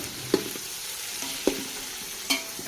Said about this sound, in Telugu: టమాటా పచ్చిమిర్చి ఇంకా ఉల్లిగడ్డలు అయితే బాగా వేగేంత వరకు అయితే కలుపు చేసుకుంటూ ఉండాలి